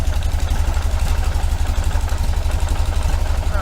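A 1973 VW Super Beetle engine fitted with Dellorto carburetors idles up close with a loud, steady, rhythmic chugging and a slight mechanical clatter throughout.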